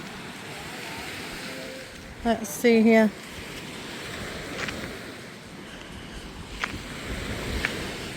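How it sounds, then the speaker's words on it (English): Surf washing onto a beach at Torquay on a rainy day, a steady wash of waves with wind noise throughout, and a person speaks briefly near the start. "just the beach and the sound of the waves"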